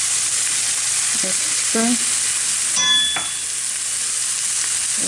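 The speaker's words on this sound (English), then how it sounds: "I'm gonna add my cumin to my onion and garlic" Onion, garlic and cumin frying in a pan, a steady broadband sizzle throughout with a few light clinks of a utensil against the pan and a sharp metallic ding midway; a word is spoken.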